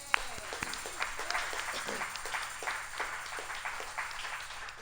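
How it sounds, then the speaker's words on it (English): A church congregation gives a light, scattered round of applause, individual claps audible in a moderate, fairly distant patter that stays even for a few seconds. "So I think we need a little applause there."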